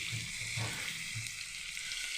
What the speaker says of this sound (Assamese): এয়া বিলাহী আৰু ফ্ৰেঞ্চবিন দি কেনে এতিয়া মই পিঁয়াজৰ লগত ভাজি আছোঁ